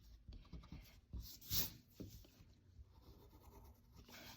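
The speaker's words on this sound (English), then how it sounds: "So we'll erase that." An eraser rubs out pencil lines on paper in soft, brief scratchy strokes, close and very quiet, with no talk.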